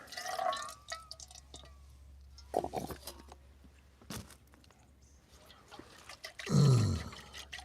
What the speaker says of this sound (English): do the dishes around here